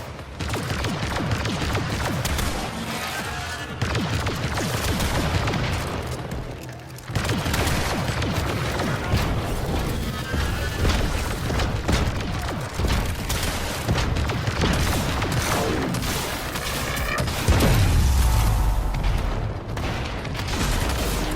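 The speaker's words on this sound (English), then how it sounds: "I've only got a few mortars left. Firing them all." Mortars fire in a video game battle: a loud, dense, continuous wall of booms and rumbling blasts with a deep low-end surge near the end, and no speech.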